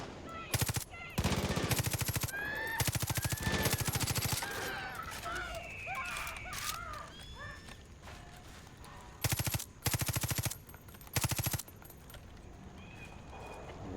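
Automatic gunfire in Far Cry 5, in Hope County with eagles about, comes as long, loud rattling bursts early on and shorter bursts later, separated by quieter stretches of game sound.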